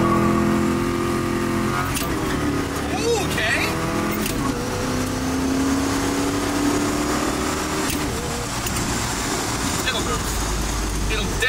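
A Chevrolet El Camino's 350 small-block V8 revs loudly and close by, its engine note steady throughout with brief louder bursts, while people talk over it.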